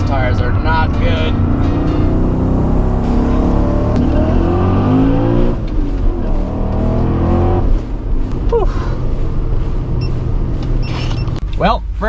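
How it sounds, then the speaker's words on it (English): A supercharged BMW M5 roars on a race track, heard loud and close from the cabin as the engine revs rise and fall through corners and shifts, with a voice talking over the noise. "first time out tracking the M5"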